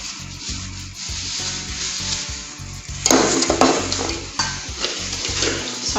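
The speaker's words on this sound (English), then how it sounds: "I'm sieving all the dry ingredients." Flour and sugar for chocolate cupcakes are sieved with a continuous gritty rubbing and scraping. The sound turns louder and rougher partway through as the sieve is shaken and tapped, close up, with no talking.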